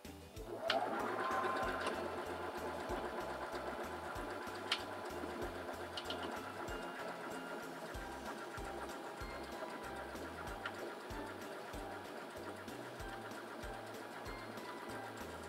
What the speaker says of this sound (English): And now we're ready to sew out our buttonhole.